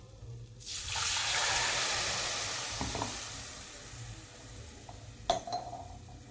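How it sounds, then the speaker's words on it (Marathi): Water pours into a cooking pot of ground onion, coriander and chana dal paste for a curry gravy, a broad rushing splash that swells and then fades, with a couple of clinks from a utensil near the end. "आता ते भांड तेच भांड आहे ना व्यवस्थित धुवून मी असं त्यामध्ये आपल्याला किती रस्सा पाहिजे तेवढं मी पाणी टाकते"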